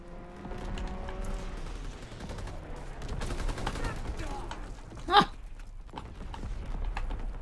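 Strafing run by fighter aircraft in Call of Duty WWII: rattling bursts of gunfire over a busy battlefield din, with a sharp louder crack near the end and faint game voices in the mix.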